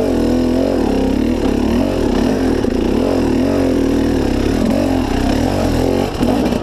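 A KTM 300 XC two-stroke dirt bike runs steadily on a rough trail, its engine note close and loud, wavering up and down with throttle changes throughout, with no talk over it.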